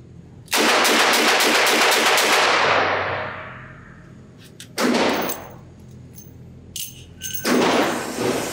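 Rapid double-action shots from a Smith & Wesson 686 Plus .357 Magnum revolver with a six-inch barrel at a range: a loud, sustained burst of quick reports followed by two more separate sharp blasts.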